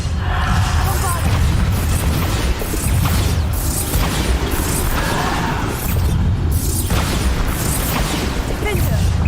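Bombarda blasting-spell explosions in Hogwarts Legacy, loud booming bursts that repeat every few seconds over dense continuous battle noise, with a voice shouting spell names throughout.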